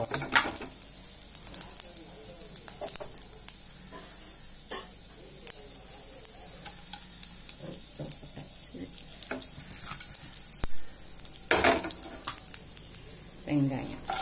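Mustard seeds, cumin, chana dal, urad dal and curry leaves fry in oil, giving a busy crackling sizzle with sharp pops and a few louder bursts, while someone talks over it.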